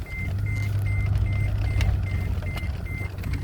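A car's seatbelt warning chimes repeatedly in an even rhythm, about eight short beeps over a low engine hum inside the vehicle.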